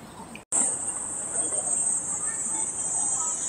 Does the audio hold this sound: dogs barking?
no